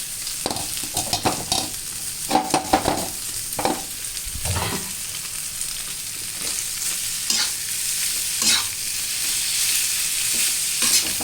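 Egg noodles stirred and fried in a pan, a steady sizzle broken by repeated scraping, tossing strokes of a spatula, close and fairly loud throughout.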